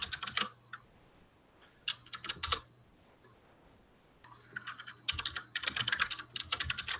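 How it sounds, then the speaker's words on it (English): Loud, fast clicking of computer keyboard keys in several bursts separated by short pauses, close to the microphone, with no one speaking. "He types incredibly loud."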